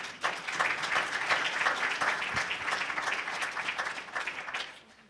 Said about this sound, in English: So a hand of applause for all the organizers